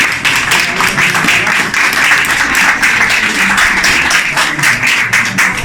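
A school audience applauds at a student event, a dense, steady wash of many hands clapping at close to middle distance that holds evenly for several seconds without a break.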